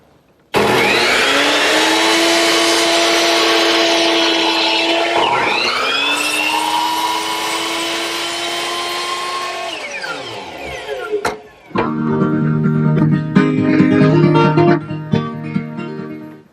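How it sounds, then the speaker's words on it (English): A power miter box set at 20 degrees whines up and bites through a wooden baluster in two long loud cuts, the blade winding down between them, then a closer rattling buzz as the piece is rotated and trimmed. "I've turned the miter box to 20 degrees. Now I'll just cut, and rotate until it's finished."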